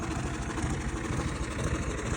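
A tractor engine drones steadily while wheat is sown in a foggy field at night, a constant low rumble heard close and unbroken, with nobody talking.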